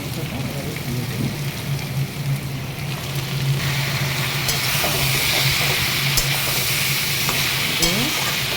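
Lemon-marinated meat goes into a pan of fried onions, the sizzle growing louder and brighter as it is stirred with scraping strokes, a steady close crackle throughout.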